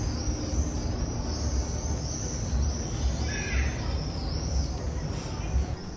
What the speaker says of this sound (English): Also, the birds here are insane.